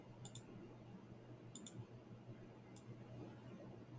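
Faint, sparse clicks of calculator keys as an expression is typed in, a few quick pairs of taps spaced across a quiet stretch with a low steady hum underneath.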